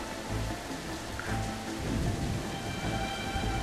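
Steady heavy rain with a low rumble of thunder in a stormy night scene from the Assassin's Creed Freedom Cry video game, a constant dense wash of downpour that swells slightly midway.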